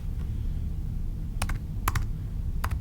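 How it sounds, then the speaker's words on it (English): Several quick clusters of key clicks on a computer keyboard as an email address is entered, short bursts separated by gaps over a quiet room hum. "start typing the email address in"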